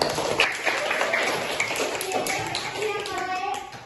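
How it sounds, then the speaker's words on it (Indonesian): Classroom applause from elementary school pupils during a civics lesson, a brisk patter of small hands clapping for a few seconds, mixed with children's voices chattering over it. "Tepuk tangan."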